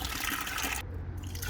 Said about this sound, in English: We don't have a drain for the grey waste, so I'm putting it in a bucket for now.